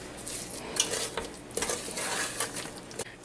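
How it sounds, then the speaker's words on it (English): A wooden spoon stirs hot peanut brittle candy mixture in a pot, giving steady close scraping and sizzling with brief clinks against the pan, with no talk. "I use a wooden spoon, and just start stirring it down"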